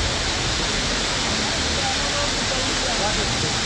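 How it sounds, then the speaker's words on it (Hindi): A steady, loud roar of falling water, Bakthang Waterfall near Gangtok, Sikkim, India, rushing without pause from start to finish. "पूरा झरना आप देखिए"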